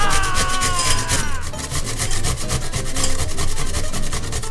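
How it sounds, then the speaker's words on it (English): Food shredded on the large holes of a box grater, a steady close scraping rub in quick repeated strokes, loud and continuous with no talk over it. "using the large side of my box grater, I'm just gonna grate that guy up"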